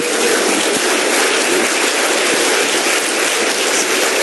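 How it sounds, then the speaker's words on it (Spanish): An audience applauds during a spoken talk: a dense, steady wash of clapping that runs unbroken for the whole stretch, with no voices over it. "Aplaudan, por favor, es muy bueno."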